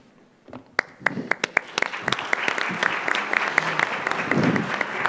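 Audience applause greets Dr. Octavio Ramilo of St. Jude Children's Research Hospital in Memphis as he takes the stage at a medical talk, starting after a brief pause with sharp individual claps that build into steady clapping from a crowd.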